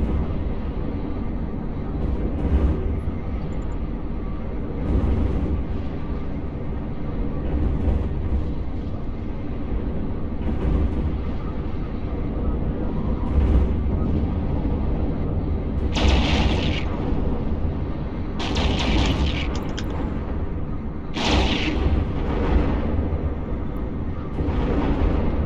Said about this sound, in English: Okay, missile away.